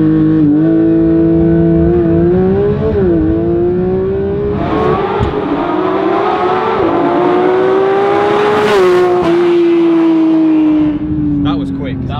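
Porsche 911 GT3 of the 992 generation launching hard from a standstill, its engine revving high and climbing through the gears with brief dips at the shifts, loud and close over about twelve seconds, with occasional voices underneath.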